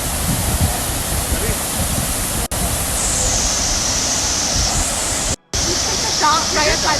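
Decew Falls waterfall in Canada sends up a loud, continuous rush of water heard close by. The roar is cut off briefly twice by short dropouts, and faint higher sounds rise near the end.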